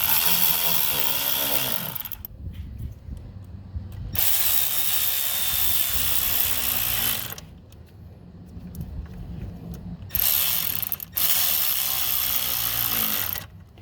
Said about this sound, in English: Going to tighten my clamps.